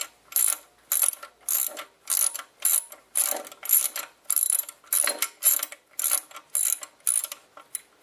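A hand ratchet tightens cap screws on the intake of an MK4 VW 2.0L engine, giving a close, crisp clicking in steady back-and-forth bursts of about a dozen strokes, with no talk.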